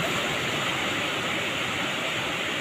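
Big waves at sea, heard as a steady, loud broadband wash of surf with no break, rushing and roaring close by throughout.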